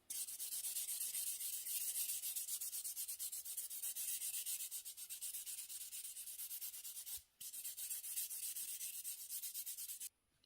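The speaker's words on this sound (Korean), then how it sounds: "샌딩 거친 표면 말고 좀 더 부드러운 표면으로 한 번 더 할게요" Steady, close nail filing with a finer-grit buffing surface during a manicure, a continuous rapid scratchy rubbing that runs almost without pause, with one brief break near the middle and no talking.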